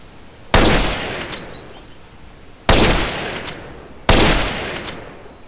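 Three loud, sharp sniper rifle shots in GTA San Andreas, evenly spaced about two seconds apart, each cracking close by and trailing off in a long echoing decay against near silence.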